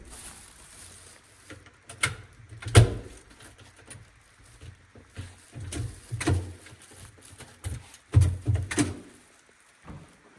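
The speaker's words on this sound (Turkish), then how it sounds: "kapıyı da kilitleyelim." Door being locked with a key inside an empty building in Karakol, Kyrgyzstan: several sharp metallic clicks and clunks spaced across the stretch, with a soft shuffle and faint room noise between them.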